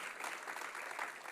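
A church congregation applauds together, a dense, steady burst of clapping that holds at an even level from start to finish, with no voices rising above it.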